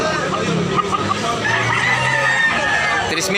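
A large chicken offered for sale at a market crows over a steady background of crowd chatter and people talking nearby, the drawn-out call rising clearly above the hubbub.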